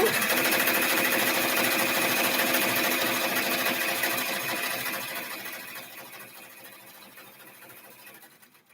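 Embroidery machine stitching a tack-down line on appliqué pieces for a bag: a fast, steady mechanical needle chatter, close and continuous, fading somewhat toward the end.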